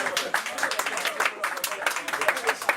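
Audience applause at a public event: a quick scatter of hand claps, fairly faint and continuous for a few seconds.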